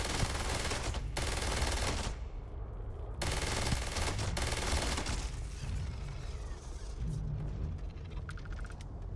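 Rapid automatic gunfire in the video game Starfield, loud dense bursts rattling continuously with brief pauses between volleys, up close and without talk.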